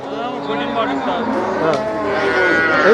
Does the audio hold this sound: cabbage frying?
no